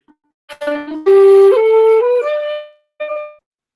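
A breathy shakuhachi flute climbs through a few stepped notes of a Japanese scale, each held briefly, then a short final note after a pause; close and clear, no talking.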